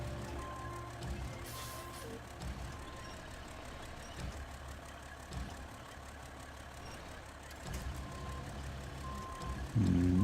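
In the video game SnowRunner, a truck in reverse gives regular, evenly spaced backup beeps over a low idling engine rumble, with a brief louder thump near the end.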